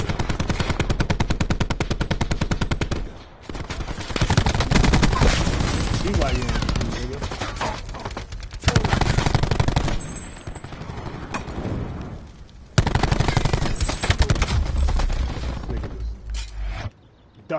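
Heavy automatic gunfire from a PS4 video game rattles in long dense bursts with brief gaps, loud and close throughout, with a voice faintly underneath.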